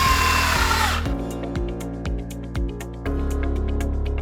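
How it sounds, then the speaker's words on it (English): A power drill bores holes into a wall for mounting a range hood, starting with a steady high whine, then short bursts and pauses, and ending in a sustained loud grinding run with rhythmic ticking. "Choose the right drill bit based on wall material, then drill holes at the marked spots."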